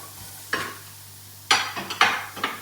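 Onions dry-roasting in a pan without oil, stirred in a few sharp bursts of scraping and sizzle over quiet hum, the strokes close and clustered near the end.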